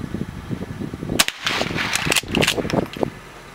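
At an outdoor shooting range, a few sharp gunshot cracks ring out mid-clip amid muffled background movement and low rumble.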